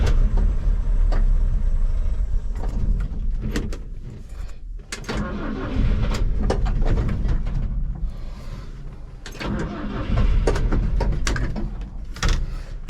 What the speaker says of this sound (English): I just had to hold the choke all the way out, and then I idled it into the driveway